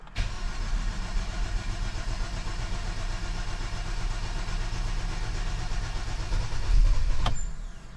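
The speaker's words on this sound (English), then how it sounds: "I'm gonna try to crank it and see if it starts" A 2017 Kia Sorento with a newly installed engine cranking over: a steady, fairly loud whirring starter churn that runs for several seconds, then briefly swells and cuts off, with no talking.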